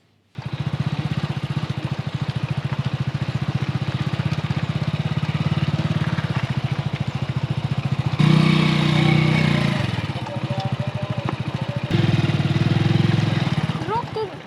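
A motorcycle engine runs steadily with a rapid pulsing throb, close and loud, shifting in tone partway through as the rider works the throttle.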